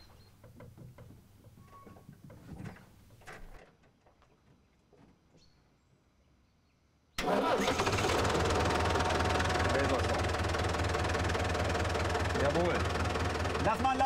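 An old tractor engine, over 30 years old and used daily on a farm, fires after a battery fault and runs loud and steady with a rough, throbbing idle, following a stretch of quiet talk.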